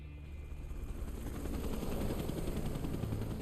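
Helicopter in the video game Final Fantasy VII Remake, a rapid rotor chop that swells in loudness over a few seconds, alone without talk.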